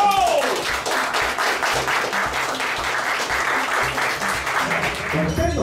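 Large audience applause greeting a baseball player at a talk show event, dense steady clapping that fills the whole stretch, with an announcer's voice briefly heard at the start and end.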